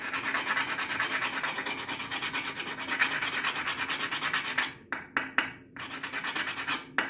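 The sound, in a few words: grating nutmeg with an old-fashioned nutmeg grater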